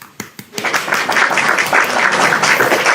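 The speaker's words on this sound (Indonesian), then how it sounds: "Aplaus." An audience bursts into applause after a couple of separate claps, the clapping swelling into dense, steady, close-sounding applause that holds loudly to the end.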